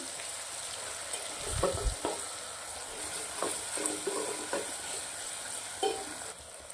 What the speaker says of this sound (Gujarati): વાટેલા આદુ અને લસણ બે મિનિટ જેવું સંતળાવા દેશું